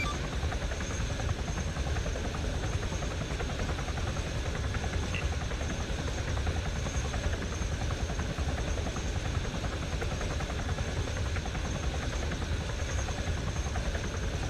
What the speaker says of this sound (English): On the first helo, rotors are turning.